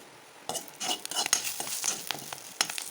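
Spices fry in a pan for betel leaf rasam, a soft steady sizzle broken by brief scraping stirs and light metal contacts, close up with no voices.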